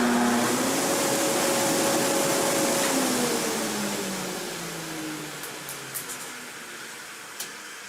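A Quincy 325 air compressor driven by a Leeson 5 hp farm duty motor gives a loud, steady whirring roar with humming tones that slowly sink and soften as it winds down, with no voices.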